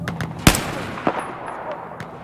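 Battlefield 4 gunfire: a single sharp, loud shot followed by a weaker second report and a faint third, spaced apart over a quiet background hiss.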